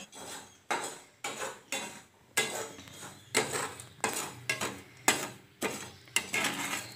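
Black chickpeas being dry-roasted and stirred in a pan, a run of about ten scraping, rattling bursts in a steady rhythm as the hard chana tumble against the metal; close and fairly loud, with no talking.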